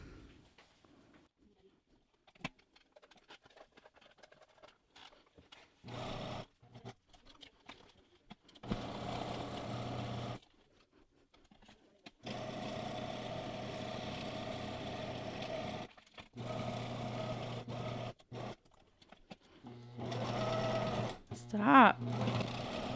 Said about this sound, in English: I'm gonna sew this piece of acetate to the cover.